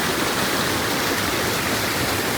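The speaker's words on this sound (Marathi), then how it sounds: "या साईडनी नदीचा फ्लो येतोय पूर्ण आणि ह्या साईडला एका जागी निमुळता होतोय" A river narrows into a tight channel and rushes through it, a loud, continuous, even hiss of flowing water close by.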